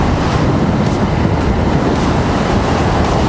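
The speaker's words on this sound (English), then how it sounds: "The wind is not bad at all." Wind noise while riding a KTM 890 Duke motorcycle at highway speed: a steady, loud, broadband rushing roar, continuous and even throughout, with no talking.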